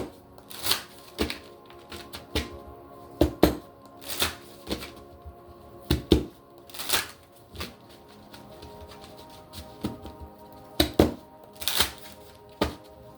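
Tarot cards being shuffled and drawn, heard as a series of sharp riffling snaps and soft thumps in irregular bursts, close and fairly loud with no talking.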